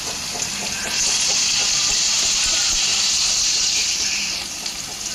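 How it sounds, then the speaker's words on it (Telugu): Onions, green chilies and curry leaves fry in hot oil in a pan for a potato-tomato curry. A loud, steady sizzling hiss swells up, holds for several seconds, then eases back down. "ఉల్లిగడ్డలు పచ్చిమిర్చి కరేపాకు వేసుకొని మగ్గనివ్వాలి"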